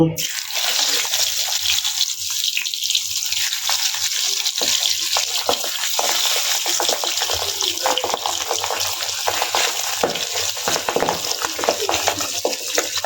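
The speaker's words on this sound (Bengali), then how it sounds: "তেলটা গরম হয়ে গেছে, এখন আমরা এক এক করে মাছ ঢেলে দিব।" Pabda fish frying in hot oil in a wok give off a continuous loud sizzling hiss close up, steady and dense without pause.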